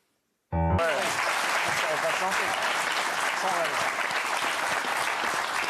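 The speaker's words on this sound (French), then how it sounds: "c'est des petits applaudissements là" Modest applause from a television studio audience after a silent lead-in, a steady, fairly dense clapping that starts abruptly and carries on evenly, with voices and music-like tones running underneath it.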